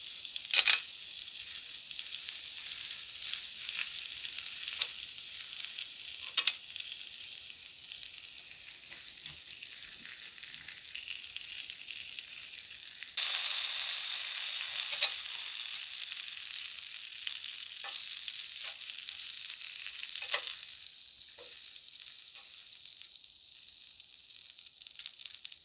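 Steak and garlic sizzle steadily in butter in a hot pan, a continuous bright frying hiss with small crackles and occasional scrapes, no voices.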